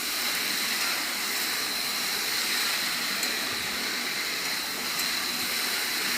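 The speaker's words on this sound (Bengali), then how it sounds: "আলু ভাজছি" Potatoes sizzle in a frying pan with a continuous, close, even hiss and a few faint clicks.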